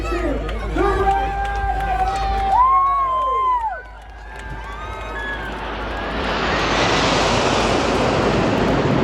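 Jets of the Red Arrows aerobatic team roar at the Southport airshow, a broad rushing blast building and sustaining after an announcer speaks over the crowd and a rising whine sweeps past.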